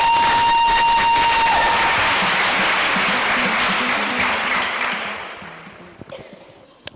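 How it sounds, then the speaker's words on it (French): A church congregation applauds loudly and continuously, with some cheering mixed in, before the clapping gradually fades out over the last seconds. "On peut acclamer Dieu pour sa vie."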